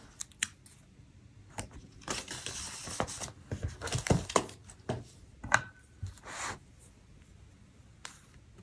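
Sticker sheet handled at a desk while planning a memory journal: soft peeling, rubbing and crinkling paper sounds in scattered bursts, close and fairly quiet, with no talking.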